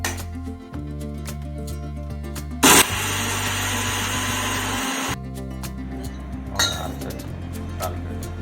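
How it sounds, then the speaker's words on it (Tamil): A mixer grinder grinds chutney with rock salt, whirring steadily with a loud motor drone, broken by sharp clinks and a brief pause before grinding resumes. "மிக்சியில் போட்டு அரைச்சிக்கோங்க தேவையான அளவு கல் உப்பு சேர்த்தி அரைச்சிக்கோங்க"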